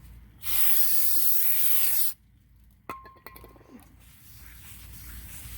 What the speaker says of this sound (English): Let's do a quick cleaning with some brake cleaner